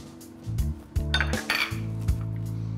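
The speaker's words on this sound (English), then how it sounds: "Now I'm just gonna lightly beat that until it's light and fluffy." Sugar and melted butter are beaten in a mixing bowl for cranberry and white chocolate muffin batter, producing repeated close clanking and scraping of a utensil against the bowl in uneven strokes, with no voices.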